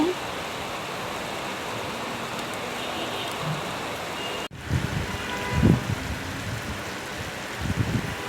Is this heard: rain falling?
yes